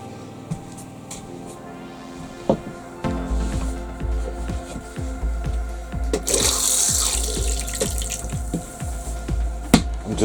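Water runs into a home plumbing system as it is deliberately filled, a steady rushing flow with repeated drips and gurgling pops that grow louder and denser partway through.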